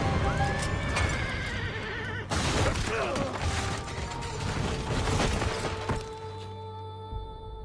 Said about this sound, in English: Careful with the horses. Keep the horses alive at least.